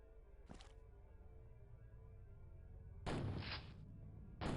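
Shotgun blasts in the X-piratez video game: one short sharp shot early, then a longer, louder booming burst and another blast at the end over a quiet low hum.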